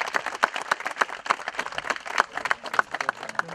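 Crowd applauding a double world champion gold medallist after a match, a dense round of claps with sharp individual hits standing out, sustained and fairly close.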